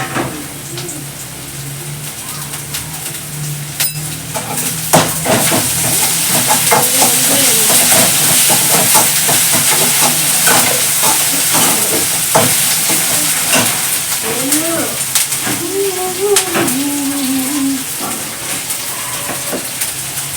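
A spoonful of ginger garlic paste frying in a hot pan, a loud continuous sizzle and hiss with stirring scrapes, close up and sustained, with brief squeaky utensil scrapes and no talking.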